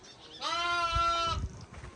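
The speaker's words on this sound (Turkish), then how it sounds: "Şurada çok tatlı bakın kara bir kuzu var." A single drawn-out bleat from a lamb, clear and close, lasting under a second with a wavering, nasal tone over quiet outdoor background.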